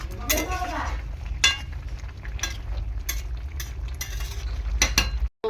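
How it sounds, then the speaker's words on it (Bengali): Vegetable curry stirred in a pan with a metal spoon, repeated scraping clinks and knocks over a low steady sizzle, with a voice talking in between. "দিয়ে একটুখানি ভালো করে নাড়াচাড়া করে নিই।"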